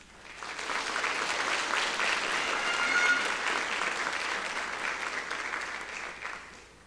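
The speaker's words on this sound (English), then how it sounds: "Let's give another round of applause for all the inductees." A crowd applauds steadily for several seconds at a National Honor Society induction ceremony, a dense wash of clapping that swells and then tapers off.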